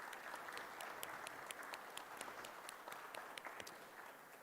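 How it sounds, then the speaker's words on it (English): A junior high spelling bee audience applauds the competing students, steady dense clapping throughout with some louder individual claps standing out near the front. "I'd like to give everyone a big round of applause again for all of your hard work in making it to the competition."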